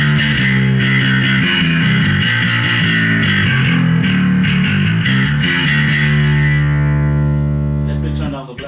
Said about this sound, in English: If I use the Sansamp bass driver as a distortion, it sounds like this.